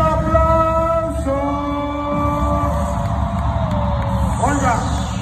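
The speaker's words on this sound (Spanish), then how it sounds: "Señoras y señores, más fuerte el aplauso" A crowd at a rap battle event roars and cheers continuously, with sustained shouts and whoops forming a loud, dense wall of voices throughout.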